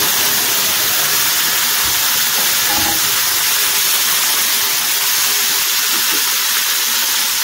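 Chopped tomatoes land in a hot pan of toasted cumin for a vegetarian Bengali potato curry, setting off a loud, steady, hissing sizzle that continues without a break.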